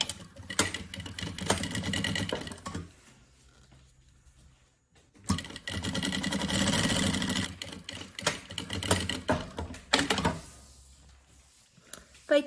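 A sewing machine stitches a zipper seam along one side of a rabbit-shaped backpack in two bursts of rapid, steady mechanical whirring separated by a quiet pause, fairly close and not loud.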